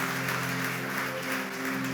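A church congregation applauds during a sermon, steady sustained clapping at moderate volume with no voices over it.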